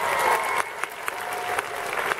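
Applause from an audience at a movie premiere in Nancy for the film Fiston, dense clapping that fades to scattered claps, with a voice speaking over it.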